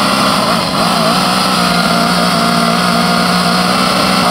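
A moped engine screams at full throttle during a moped race at Glemseck, a loud, steady high-pitched drone that holds constant without letup.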